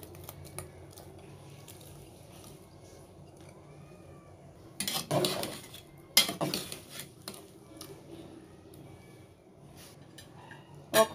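Radish pieces go into a pot of dal in a quiet home kitchen, giving two short bursts of metallic clattering and scraping close by, with faint, low kitchen background before and after.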